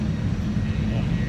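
Airplane landing in Crimea, heard from inside the cabin as a steady, loud low engine rumble and roar that holds evenly throughout, with no talking over it.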